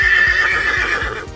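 Horse neighing loudly in a drawn-out, wavering whinny, with several hoof clip-clops falling in a steady beat beneath it, close and clear with no talk.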